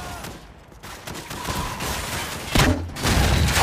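Covering gunfire in the video game Call of Duty 4: Modern Warfare: sustained rifle bursts and rattling automatic fire, loud and dense, with heavier blasts near the end.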